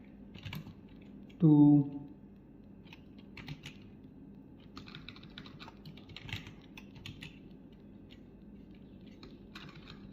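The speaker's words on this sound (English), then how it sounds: "let's write a script. Write a script" Typing on a computer keyboard while drafting a script with an AI chatbot, a steady patter of light key clicks running through the clip beneath a brief spoken word near the start.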